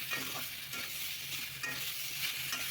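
Moringa drumstick pieces and potatoes with spices, sugar and salt are stirred and fried together in a pan for a vegetarian curry, giving a quiet, continuous sizzle with soft scraping.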